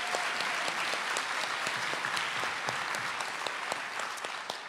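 A graduation audience applauds steadily for the graduate Lindsay, producing dense, even clapping that holds at a constant level and tapers slightly near the end.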